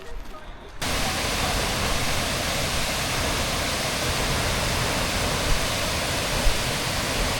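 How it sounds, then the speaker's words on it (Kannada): Rushing water at Mukanmane waterfall roars as a dense, broad, steady wash, starting after a short quieter moment and then holding loud and unbroken, with faint voices mixed in. "ಬರೀ ನೀರಿನ ಸೌಂಡೇ ಕೇಳ್ತಿರೋದು, ಬೇರೆನೂ ಕೇಳ್ತಿಲ್ಲ"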